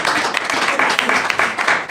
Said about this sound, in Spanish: Vamos a dar un aplauso a Desnivel.